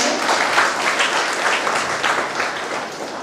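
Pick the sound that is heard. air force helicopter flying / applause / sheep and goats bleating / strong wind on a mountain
applause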